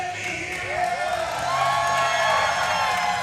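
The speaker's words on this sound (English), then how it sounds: "Crowd is loving it." A crowd at a mixed martial arts fight cheering and whooping steadily, a broad, far-off roar that swells slightly and holds, with a commentator's voice faintly underneath.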